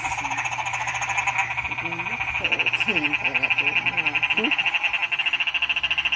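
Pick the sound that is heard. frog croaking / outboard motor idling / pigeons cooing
frog croaking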